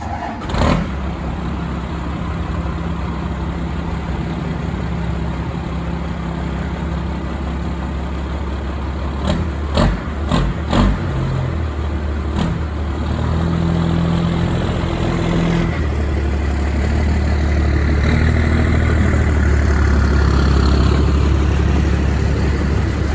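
A Cummins diesel-swapped Chevy truck cranks and fires, then settles into a steady rumbling idle with a few brief revs and clunks midway, heard close up for over twenty seconds.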